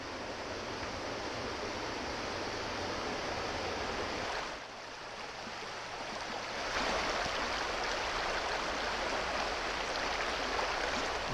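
A river in the Smoky Mountains flows continuously beside a trail, a broad even roar that dips briefly before returning at full strength, with no voices.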